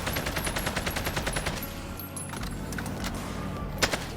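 An AK assault rifle in the Warzone video game fires a rapid, steady full-auto burst to empty its magazine, loud and close, then the shots trail off into scattered clatter.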